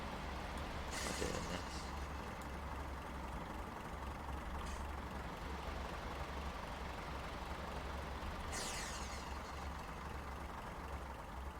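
Class 142 Pacer diesel train in Train Simulator Classic braking to a stop, a steady low engine rumble with two short hissing air-brake bursts as the brakes are tapped on and off.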